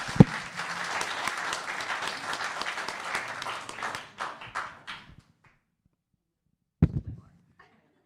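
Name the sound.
applause at a town council meeting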